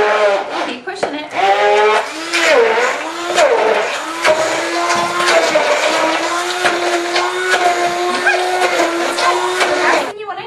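An immersion blender whirs steadily while a child mashes bananas for banana bread, the motor pitch wavering as it is pushed down, with brief start-stop bursts and a short cutoff near the end.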